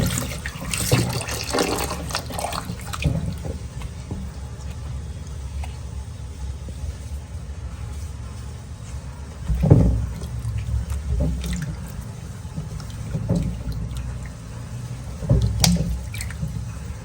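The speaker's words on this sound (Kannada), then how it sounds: "ಈಗ ಈ ಮಾವಿನಕಾಯಿಗಳನ್ನ ಕ್ಲೀನಾಗಿ ತೊಳ್ಕೊಳ್ತೀನಿ" Raw mangoes for pickle are rinsed under running water in a home kitchen, a steady trickle with splashes, handling knocks and a few louder sloshing bursts, close by without talk.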